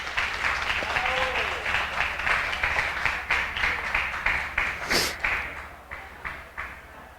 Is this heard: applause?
yes